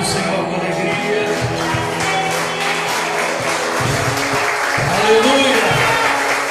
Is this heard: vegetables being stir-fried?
no